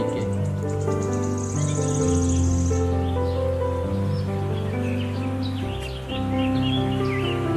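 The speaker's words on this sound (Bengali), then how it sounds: "পাখির ডাক, ময়ূরের ডাক শুনতে শুনতে," Birds call in Chilapata forest: a run of high chirps early on, with scattered calls later, sitting above a steady, dense bed of sustained tones and insect-like hum that runs throughout.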